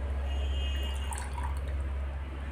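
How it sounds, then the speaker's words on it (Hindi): Tap water running steadily into a container while 350 grams is measured out for a homemade aluminium cleaner, a continuous close pour with a low rumble and faint drips throughout. "इसमें मैं 350 ग्राम तक पानी ले लेता हूँ"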